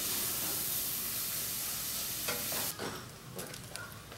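Rice and a can of green corn fry in a pan with a steady loud sizzling hiss, then a few scraping stirs break in near the end.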